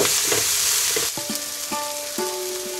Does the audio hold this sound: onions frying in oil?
yes